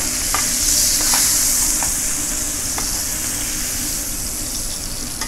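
Pork loin hits a hot pan with a loud, steady sizzle that holds from start to finish, broken by a few faint clicks and scrapes, with no one talking.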